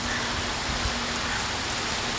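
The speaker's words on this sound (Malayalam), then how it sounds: "നല്ല കിടുക്കം മഴ ഇന്ന് ഫുള്ള്." Heavy rain pours at home during the rainy season, a dense and steady hiss that stays close and even from start to finish with no breaks.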